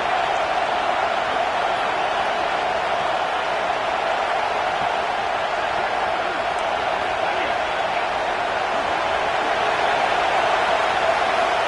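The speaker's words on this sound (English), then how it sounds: "Crowd alive." Steady, dense roar of a stadium crowd during a college football game, a continuous broadband wash of voices that stays loud and even throughout with no clear peaks or pauses.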